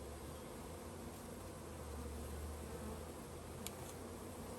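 Honey bees buzz in a steady, faint, continuous drone around a requeened, overwintered double hive in early June near Grand Rapids, Michigan, with no talk.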